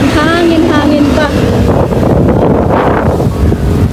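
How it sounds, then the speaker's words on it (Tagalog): Strong seaside wind at Oslob roars hard against the microphone in a loud, constant buffeting rush, with a voice speaking briefly underneath at the start. "Malakas ng hangin."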